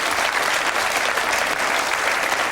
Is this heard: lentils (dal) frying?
no